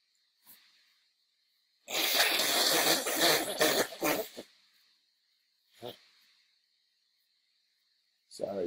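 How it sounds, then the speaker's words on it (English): A person blows their nose loudly for a couple of seconds, followed by a few shorter sniffs and snorts close to the microphone. "Sorry, you have to hear me blow my nose."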